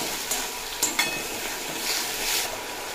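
Spiced masala paste, loosened with a splash of water, sautés in a pan for a vegetarian pointed gourd curry, giving a steady close sizzle broken by a few light stirring taps.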